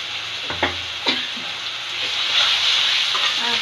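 Fish paste mixture fries in a pan with a steady close sizzle and crackle, a few sharp spatters and stirring clatters breaking through the continuous hiss.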